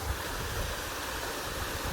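Rainwater rushes through a drain during ongoing rain, a steady, even flow of broadband watery noise without pause.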